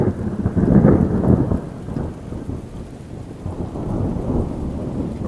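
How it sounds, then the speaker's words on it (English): Heavy rain pours steadily while a deep rumble of thunder rolls through, loudest early then easing into constant downpour. "the rain started coming down hard."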